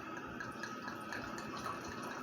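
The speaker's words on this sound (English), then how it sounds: "Let's pour a little bit in the glass" Cranberry rhubarb wine trickles steadily into a glass, a soft continuous pour heard close and quiet, with no talking.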